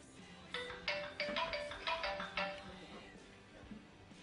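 A telephone rings in a quick run of bright electronic tones that rise and fall for about two seconds before fading, moderately close, with a faint murmur behind it.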